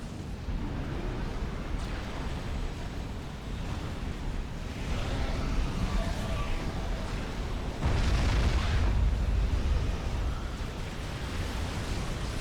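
Continuous roar of artillery fire and explosions from a Supreme Commander: Forged Alliance battle, a dense rumbling wash with a heavier blast swell near the end, loud and sustained throughout.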